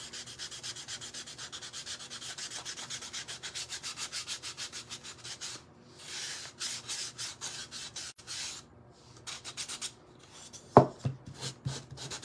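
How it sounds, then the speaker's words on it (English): Sandpaper is rubbed by hand along the edges of a wooden craft plaque in steady, close, rhythmic strokes. The scratching pauses briefly a few times, then resumes in shorter bursts, and a sharp knock lands near the end. "If you have any sandpaper, you can sand the edges."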